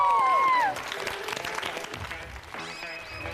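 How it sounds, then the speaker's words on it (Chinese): Studio audience on a dating show bursts into applause with high screams, a loud surge at the start that settles into steady, dense clapping and cheering mixed with voices. "掌声和尖叫声！"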